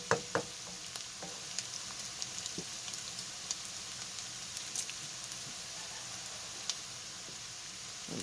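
Diced potatoes, onions and bacon crisp in a pan with a soft, steady sizzle, scattered with small pops and crackles throughout, fairly quiet and with no talking.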